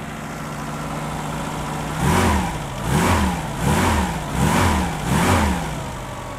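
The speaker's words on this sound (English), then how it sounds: "Let's try to give it some gas." A 1969 Opel Rekord C 1900 with a Solex carburetor idles close by, then revs in five even throttle blips about a second apart, each rising and falling back to a steady idle.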